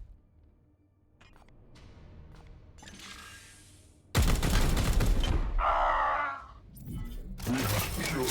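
Gunfire in Warhammer 40,000: Chaos Gate - Daemonhunters, a loud burst of crackling shots that breaks in suddenly and stays dense for a few seconds, with a sharp tearing blast and more shots following over a game soundscape.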